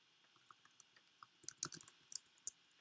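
Keys clatter on a computer keyboard during a Hacknet game session, a few scattered taps at first, then a quicker burst of clicks near the end, quiet and close with no talk.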